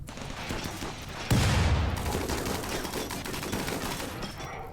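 Dense gunfire from a battle in the video game Rimworld rattles on as a loud, continuous fusillade, with a sharp jump to heavier, booming shots partway through and no voices over it.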